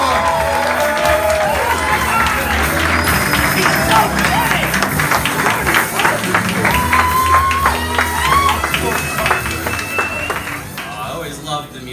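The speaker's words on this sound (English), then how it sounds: "So please show us some love and clap it up for Mr. Jordan Parker." A comedy club crowd at the Comedy Palace in San Diego claps and cheers loudly for a comedian's entrance, with whoops and shouts over dense clapping and music underneath, the noise fading slightly at the close.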